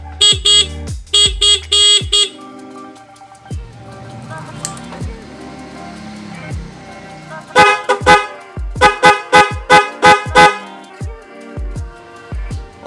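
Two different motorcycle horns wired to a single switch sound in loud repeated blasts, clusters of short honks at the start and end with a quieter stretch between.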